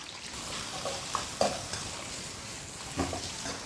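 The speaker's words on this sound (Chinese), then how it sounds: "先下入腊肉煸炒，" Sichuan cured pork being stir-fried in a wok, a close, moderate sizzle with occasional scrapes and clinks of the spatula against the metal, no talking.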